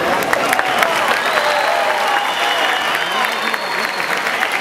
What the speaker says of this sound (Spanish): Así que quiero que le demos un aplauso a este jovencito talentosísimo, Ronald Alexis Cuero Paz, por su creación.